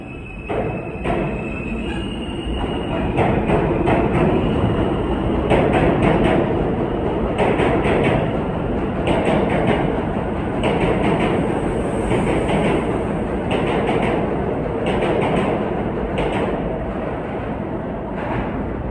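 R160 subway cars of a Manhattan-bound E Express train run with a loud, steady roar and rumble, rhythmic clickety-clack over the rails throughout, heard from on board with no talk.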